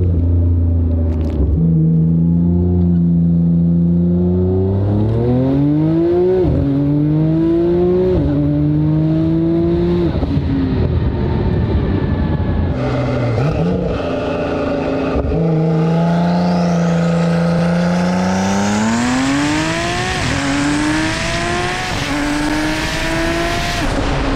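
A 1400 wheel-horsepower Porsche engine roars loudly from inside the cabin on a street ride, revving up through several gears with sharp shifts and a rising, strained howl at the end.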